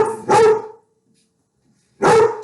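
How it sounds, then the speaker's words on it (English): A dog barks twice, loud and close, with the two sharp barks separated by about a second and a half of silence. "Sorry, that's my dog."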